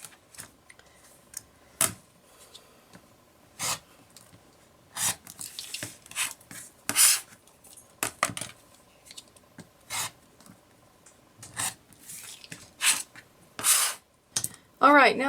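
A rotary cutter slices half square triangle quilt blocks against a block lock ruler, trimming them down to 2 inches, in short separate scraping cuts spaced out over quiet handling sounds.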